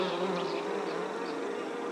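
Bees buzz steadily around a beehive, a dense, continuous droning hum that holds at an even level throughout, close and unbroken.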